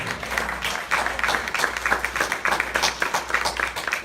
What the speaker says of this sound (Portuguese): Quem pode aplaudir ao Senhor por isso?